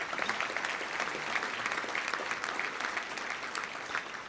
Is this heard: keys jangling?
no